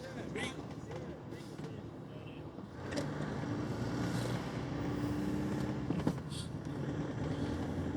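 A 3-litre motorhome engine drones steadily from inside the cab while driving, a low continuous rumble with road noise that rises slightly partway through, while someone talks over it.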